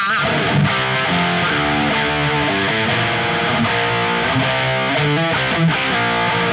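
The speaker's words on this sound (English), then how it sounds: "a bit more bite, more distortion." An electric guitar is played through a Zuta distortion pedal on a heavier, more biting setting, giving a thick, saturated, sustained tone of chords and riffs that stays steady and loud throughout.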